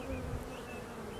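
Bees buzz in Utica as a steady, faint, continuous drone with no talking.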